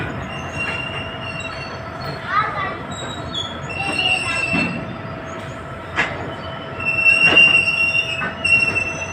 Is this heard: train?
yes